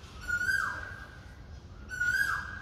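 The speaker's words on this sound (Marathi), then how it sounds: "आपण कू केल्यानंतर कोकिळ पण कू करते" An Asian koel calling twice, each a clear whistled rising note about a second and a half apart, quiet and distant against a calm evening background.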